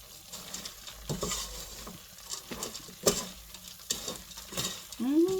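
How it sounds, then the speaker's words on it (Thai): Fried pumpkin chips are tossed with roasted sesame seeds, giving a steady dry rustle and scrape of stirring with crisp patter throughout and a sharp clink partway through. Nobody speaks. "คนทุกอย่างให้เข้ากันจ้ะ"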